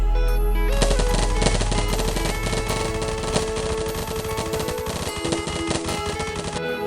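Rapid automatic gunfire in a Roblox video game, a loud, dense stream of shots lasting several seconds with a few brief pauses, set over background game music.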